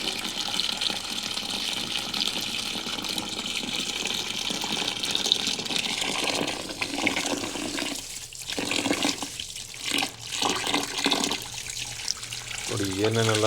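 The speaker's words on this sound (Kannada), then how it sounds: "ಟಾಪಿಂದ ನೀರು ಬಿಡ್ತಾ ಇದ್ದೀನಿ ನೋಡಿ." Water streams from a kitchen tap into the sink while ragi is being cleaned, a steady close gush with splashy surges in the later part.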